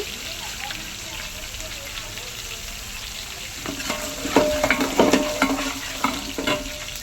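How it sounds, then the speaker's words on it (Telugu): Crushed garlic fries in a pan for a gongura tomato curry while it is stirred. A bright sizzle runs throughout, and clattering scrapes grow busier and louder in the second half. "తిప్పుతూ ఉండాలి మాడిపోకుండా"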